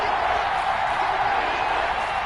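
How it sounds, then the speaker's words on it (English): A stadium crowd in an American football video game, Panthers vs Bucs, roars steadily ahead of a big third down, a dense, even wash of cheering that holds without a break. "the crowd getting into it as we come up on a big 3rd down"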